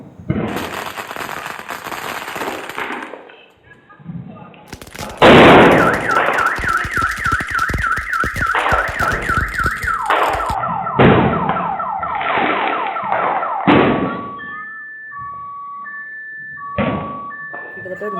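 A loud car alarm blares through cycling siren tones and warbles during Diwali, amid bangs and crackles of firecrackers, with people talking early on.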